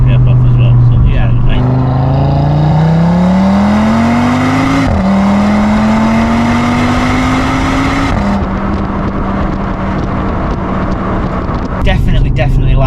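An Audi RS3 8Y with an aftermarket exhaust, particulate filter still fitted, drones loudly and close up, its engine note rising through the gears with brief drops at shifts and a deep, sustained tone, while someone talks over it.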